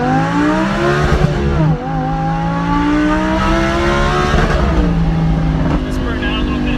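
A turbocharged 2003 Mustang downshifts and then accelerates hard, its engine pitch climbing and dipping through the gear changes. The sound is loud and close, with people talking over it.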